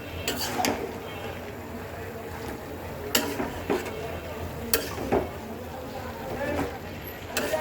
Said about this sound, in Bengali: এখন আমি সব কিছু একসাথে সুন্দর করে মিক্স করে দেবো